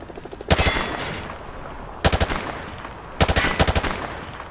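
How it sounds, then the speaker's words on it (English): Automatic rifle fire in the Modern Warfare 2 video game, three sharp rapid bursts sprayed at targets, loud and close, with spent echo and faint background noise between bursts. "He sprayed bullets all over the damn place."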